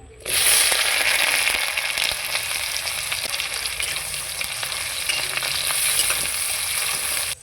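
Two large chopped onions fry in hot oil with dried chillies and bay leaves, giving a loud, steady, close sizzle that starts abruptly and runs evenly to the end, with a few faint crackles and no voices.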